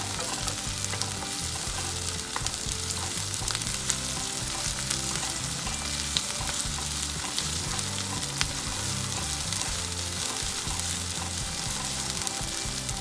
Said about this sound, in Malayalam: ഇഞ്ചി വെളുത്തുള്ളി പേസ്റ്റ് ഇടുക. നന്നായിട്ട് മിക്സ് ചെയ്യുക.